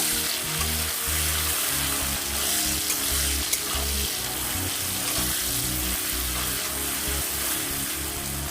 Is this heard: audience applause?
no